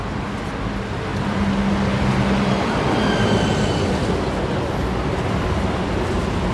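BTS Skytrain green line train at Mo Chit station in Bangkok, a loud continuous rumble of wheels and cars rolling past, swelling slightly and holding steady throughout.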